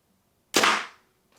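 A compound bow looses a speed arrow through a chronograph: one sharp, loud snap and thrum that rings out and dies away in under half a second, with a faint tick after it and no talk.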